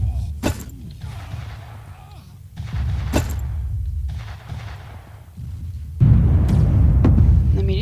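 Gunfire in the video game Battlefield cracks out in a few sharp, loud single shots over rumbling background engine and battle noise.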